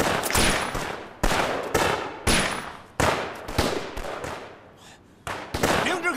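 Gunfire in a wartime drama set during the war against Japan: a series of loud, sharp shots and short bursts in irregular succession, with brief gaps and echoing tails.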